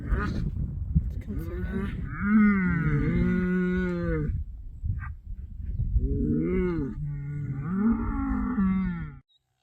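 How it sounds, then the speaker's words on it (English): Several cows moo loudly and close by, long drawn-out calls overlapping one another, with a short pause between bursts. "There's a lot of cows out over there."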